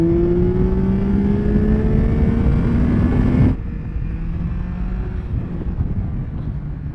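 Yamaha Tracer 9 GT motorcycle engine revving hard with a rising pitch under wind roar while riding, then cutting off abruptly midway and leaving a quieter rushing drone.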